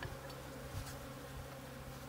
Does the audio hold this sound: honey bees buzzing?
yes